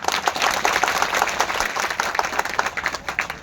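Audience at a live Gujarati comedy and music program clapping to welcome an accompanying musician, a dense, steady round of applause nearby with a crowd murmur beneath.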